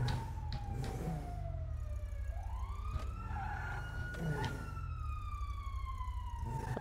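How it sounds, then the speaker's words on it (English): A video game ambulance siren wails, sweeping up and down continuously over a low engine rumble, steady and fairly loud. "Oh, ambulance. I just said ambulance."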